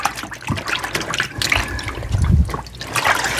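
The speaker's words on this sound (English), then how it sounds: "See, I have some dry spots there, so I'm going to dunk it again." A length of fabric is dunked again into a bucket of liquid starch, making close sloshing, dripping and trickling sounds as the wet cloth is worked in the liquid.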